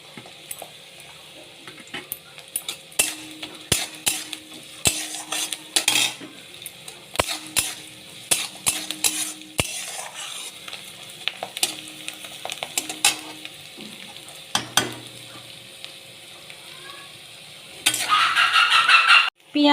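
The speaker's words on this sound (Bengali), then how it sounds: "পেঁয়াজ ভাজা হয়ে গেছে" Onions frying and being stirred in a pan for a Bengali home dish, with repeated sharp scraping strokes and clatter over a low sizzle, growing into a louder steady frying hiss near the end.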